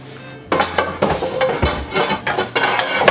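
Metal cooking pans are handled in a home kitchen while making hamburgers with grilled onions, with a series of close, loud clanks and clinks of cookware knocking together, no talk.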